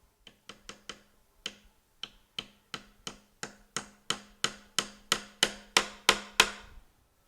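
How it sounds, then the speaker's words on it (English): A tack is hammered into the side of a wooden chair rail while a seat is woven with Shaker tape: about seventeen sharp, close taps that start sparse, then quicken into a steady rhythm and grow louder, with no talking. "we're going to put this tack in on the side so that when it's hammered in, it isn't on the top of the rail"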